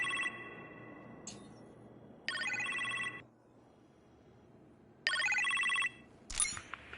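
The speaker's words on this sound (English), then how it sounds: "You appear to have a phone call in the kitchen" A telephone rings in a video game, with two electronic ring bursts separated by a quiet gap and a short extra chirp at the end, heard alone without speech.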